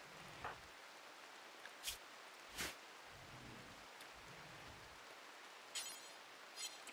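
Rain falls in RimWorld as a soft, steady hiss at low volume, broken by a few brief sharp clicks and taps.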